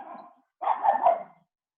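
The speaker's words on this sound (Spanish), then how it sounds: "Bueno, este es mi perro, Tocino." A dog barks in two short bursts, close and fairly loud, with a brief pause between them and no other sound around.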